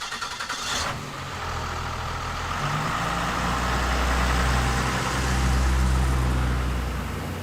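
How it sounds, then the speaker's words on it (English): The Roadkill ramp truck drives down the road with its engine rumbling low and steady inside the cab, the pitch climbing and easing slightly as it moves, with no talk. "I like driving this truck, Dave."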